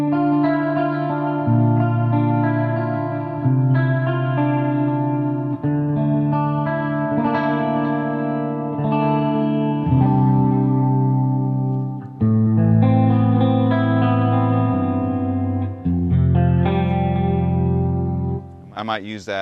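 Clean electric guitar tone with light compression, chorus and delay, playing a flowing run of chords and arpeggios that ring with a shimmering echo; steady and close throughout.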